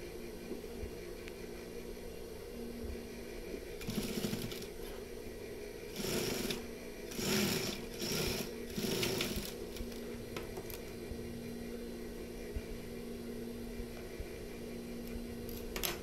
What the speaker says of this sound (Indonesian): Kita akan jahit dengan kantong bagian dalamnya ya, biar tidak kebuka-buka.